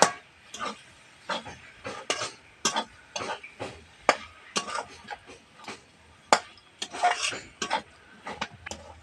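Vegetarian banana flower curry is stirred in a pan with a spatula, giving close, repeated scraping and clanking strokes in an uneven rhythm over several seconds, with no talking.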